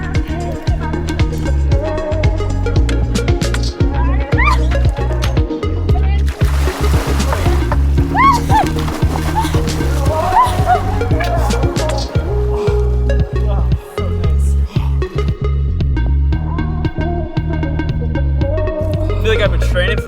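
Water splashes and sloshes repeatedly as people move in and out of it outdoors in British Columbia, Canada, with voices talking and shouting around the splashing.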